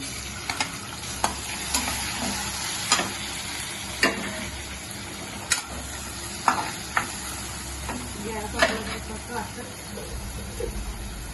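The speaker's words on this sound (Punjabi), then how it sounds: "ਹੁਣ ਆਪਾਂ ਪਾ ਦਿੰਦੇ ਹਾਂ ਟਮਾਟਰ" Tomatoes hit a hot pan for roti noodles, setting off a constant crackling sizzle punctuated by sharp clanks of a spatula stirring against the pan, with a voice speaking intermittently over the cooking.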